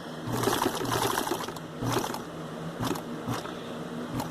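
Sewing machine stitching a fabric mask: close whirring bursts of stitching in short runs separated by brief pauses, moderately loud with a faint background hum.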